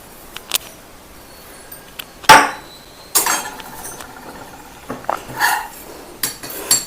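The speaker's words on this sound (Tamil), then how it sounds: "கிராம்பை இந்த மாதிரி 1-2 நான் தட்டி ஒரு 20 கிராம்பு இதில்" Cloves are crushed by pounding, giving a few sharp, separate hard knocks and clinks with short pauses between, close and fairly loud with no talking.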